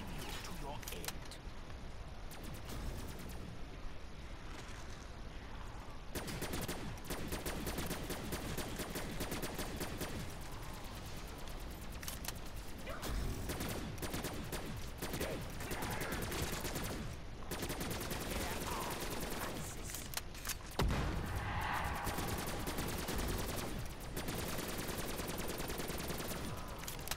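An ICR rifle fires in Black Ops 3 Zombies during a high-round attempt, with dense bursts of gunfire and game effects running throughout and players talking over it.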